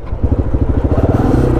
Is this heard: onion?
no